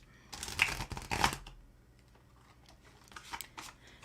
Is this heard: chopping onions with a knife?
no